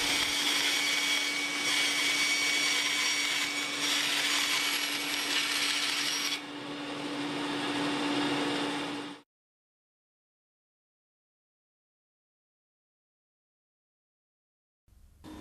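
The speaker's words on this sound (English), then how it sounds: "Power down the bandsaw." A workshop bandsaw runs with a steady loud whir and hum for about nine seconds, then is switched off and cuts out quickly into silence.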